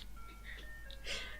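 A faint, thin electronic ice cream truck jingle with a few short tonal notes, heard briefly and at a distance.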